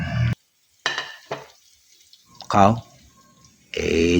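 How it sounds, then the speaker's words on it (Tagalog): Garlic and onion being sautéed in a pan: intermittent bursts of sizzling and frying, loud and close, broken by gaps and a stirring scrape, with talking in between. "Nagsangkot siya ng bawang at isang malmal na sibuyas."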